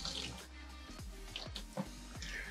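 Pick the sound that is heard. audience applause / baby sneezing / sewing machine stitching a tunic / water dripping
water dripping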